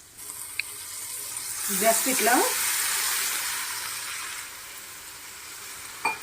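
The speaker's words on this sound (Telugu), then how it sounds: "ఇప్పుడు ఈ స్టేజ్లో ఒక 1/2 గ్లాసు వాటర్ జస్ట్ అలా చల్లుకోవాలండి" Water splashed into a pan of cooking beetroot curry: a quiet sizzle swells into a brief bubbling hiss and fades slowly, while someone speaks over it.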